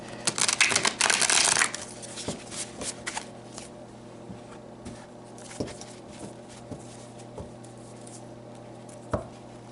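Close-up riffling and snapping of a deck of slightly oversized tarot cards being shuffled, a dense burst at first, then scattered taps and shuffles in a quiet room.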